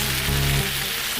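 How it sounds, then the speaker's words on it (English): BBQ chicken sizzles as it finishes cooking, a steady broadband hiss of frying fat with a faint low hum underneath and no talking. "Listen to that sizzle."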